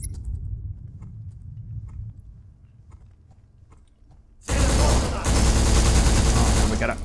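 Heavy gunfire from the shooter game Black erupts suddenly after a quiet stretch with low rumble, with loud, dense shotgun blasts and rapid shots filling the final few seconds.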